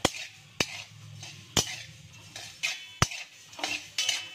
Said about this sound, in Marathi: लो फ्लेमवरच भाजायचे ते जवस 1-2-3 मिनिटं